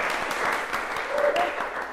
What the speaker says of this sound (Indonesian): aplaus buat kita semua